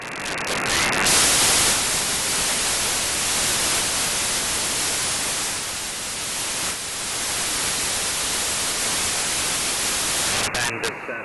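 Weak shortwave radio station buried in heavy, steady hiss and static, received on a wire antenna in County Cork; the broadband noise stays loud and constant with only brief fluctuations.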